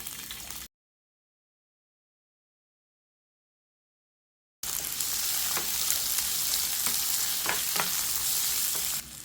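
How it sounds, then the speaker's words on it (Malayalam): Chopped jackfruit frying in ghee in a pan, a steady close sizzle with small crackles and stirring scrapes, cutting in after a brief gap of silence and continuing to the end. "ഇതിലേക്ക് ആദ്യം തന്നെ ഈ ചക്ക അരിഞ്ഞു വെച്ചിരിക്കാൻ ഇങ്ങോട്ട് ഇട്ട് കൊടുക്കാം"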